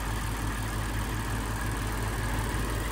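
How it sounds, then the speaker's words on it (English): A 2019 Lexus GS F's Japanese V8 idles steadily and smoothly, a low, even rumble with a faint rhythmic pulse, heard close and alone for a few seconds. "Japanese V8s just have this unique sound."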